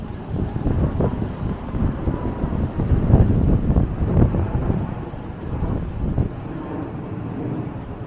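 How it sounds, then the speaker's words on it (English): Gusty wind at Battersea Power Station buffets the microphone, rumbling low and uneven throughout with no voices. "Very windy today, cool wind blowing."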